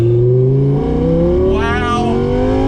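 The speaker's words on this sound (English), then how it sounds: "downshift, listen to that thing" A 2018 Audi R8 V10 Plus Spyder's V10 engine downshifts under braking, with loud rising and falling blips and revs close to the microphone.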